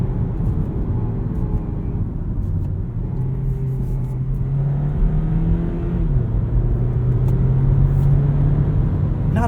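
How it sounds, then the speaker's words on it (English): A 2018 Hyundai IONIQ Plug-in Hybrid prototype accelerating, heard from inside the cabin: a loud, steady engine drone rises in pitch, drops sharply at a quick gear shift, then climbs again. No one talks. "Nice quick shifts, fast downshifts as well."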